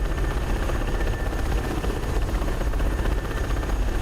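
A helicopter engine spooling up in the flight simulator DCS World, a steady dense turbine and rotor roar that stays loud and constant with no talk over it.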